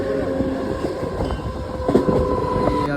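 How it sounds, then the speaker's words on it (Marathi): A passenger train pulls away from Neral junction, its loud rumble and rhythmic wheel clatter filling the platform up close, with metallic squeals and clanks over the steady roll. "नेरळ जंक्शन आमची ट्रेन गेली."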